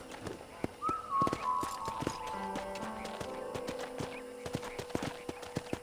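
Horse hooves clip-clop at a walking pace in the Red Dead Redemption prologue, a quiet, steady series of distinct knocks with a brief whistle-like tone and a faint voice in the background.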